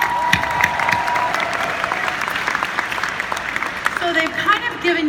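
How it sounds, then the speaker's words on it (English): Applause fills a conference room, a steady round of clapping from a seated crowd with voices mixed in underneath. "How about a round of applause for Mark and Michelle?"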